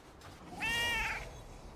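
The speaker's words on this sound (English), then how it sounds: "It meows when you call it." A unicorn-like cat mount in World of Warcraft gives a single clear, drawn-out meow over a faint background hum.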